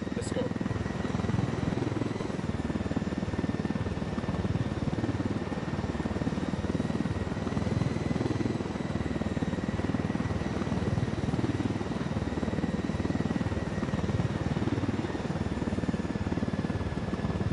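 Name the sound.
helicopter flying in video game Ghost Recon Wildlands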